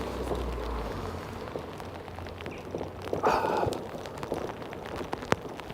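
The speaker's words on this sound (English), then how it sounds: "Wow, there is so much rain." Heavy rain falls during a bicycle ride in Amsterdam, a steady hiss of drops with low rumbling from wind or traffic and a brief louder burst partway through.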